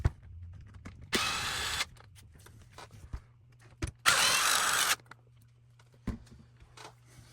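A power driver backs screws out of the top of a shock tower on a Losi DBXL RC car, with two close, steady whirring bursts of about a second each, separated by small clicks and handling noises.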